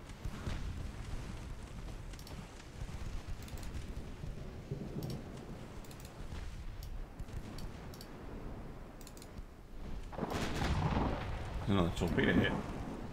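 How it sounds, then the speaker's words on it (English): Warship combat in a French dreadnought naval video game: deep rumbling booms of naval gunfire and torpedo hits roll on continuously, building to a louder burst of explosions near the end. "Another torpedo hit."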